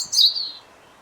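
European robin on a branch just overhead, giving a brief bright high chirp that fades out after about half a second in a quiet outdoor setting.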